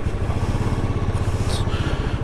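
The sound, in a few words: rented motorcycle engine, possible chain noise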